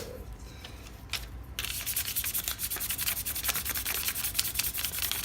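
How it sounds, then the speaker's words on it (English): Titanium EDC gear is hand-sanded with very fine grit sandpaper, giving a quiet, rapid, rhythmic scratchy rubbing. The strokes speed up after a brief pause and continue steadily, close and alone. "high polish it with some really fine grit sandpaper"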